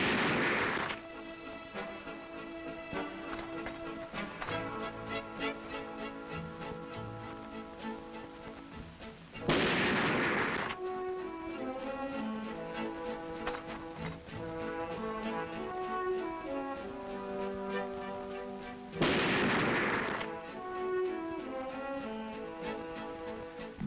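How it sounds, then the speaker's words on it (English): A bolt-action Remington Model 700 rifle fired three times at 100 yards, three sharp shots spaced roughly ten seconds apart, heard under a continuous musical backing. "Each shooter will fire 3 shots at 100 yards, and Mike starts it off with a bolt-action Model 700."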